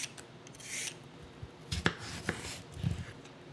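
A knife cuts thin slices from a peeled cucumber half, giving a few soft, separate chopping taps against a board at a quiet, close level.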